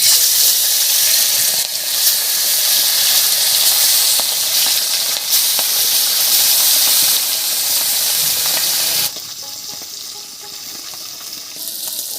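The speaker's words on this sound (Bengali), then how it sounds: "তেলটা গরম হয়ে গেছে এবারে মাছগুলো ভেজে নিচ্ছি" Fish frying in hot mustard oil, a loud, dense sizzle close up that drops to a quieter crackle near the end.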